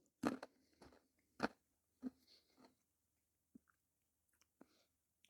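Crunchy Twiglets, a salty pretzel-like snack, are chewed up close, giving a few sharp crunches followed by quieter, spaced chewing sounds, with no talking.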